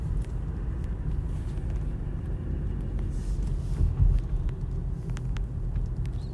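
A car driving on a road produces a continuous low rumble of engine and tyre noise from inside the cabin, steady with a slight swell midway and no talk.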